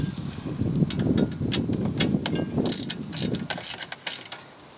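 A ratchet tightens a 10mm bolt while a front wheel hub is worked on in a 2007 Hyundai Santa Fe, producing rapid, close clicking bursts in quick strokes that thin out toward the end.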